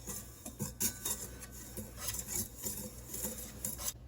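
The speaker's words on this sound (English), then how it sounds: "Whisk, whisk." Ingredients whisked in a bowl make quick, rhythmic metallic scraping and clinking, close and fairly quiet, with no talking.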